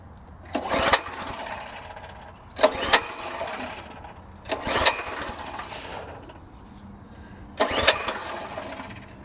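Repeated attempts to start a small engine: four separate pull-start bursts a couple of seconds apart, each a short sputtering rattle that dies away without catching, heard close and loud.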